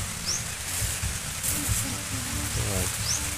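Heavy rain falling on a rural field, a steady broad hiss of drops with a couple of faint bird chirps and low rumbles underneath, no talking.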